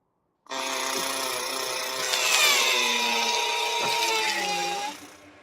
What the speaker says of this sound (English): The drill on the arm allows us to grab some of that rock and deliver it to the laboratory instruments inside the body of the rover